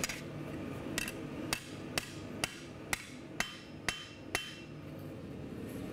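Hammer blows on metal at a blacksmith's anvil, about ten sharp ringing strikes at a steady rhythm, close and loud over a low shop hum.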